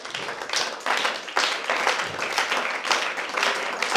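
A church congregation claps together during a worship service, a dense, rhythmic round of applause with sharp overlapping hand claps, steady and fairly loud throughout.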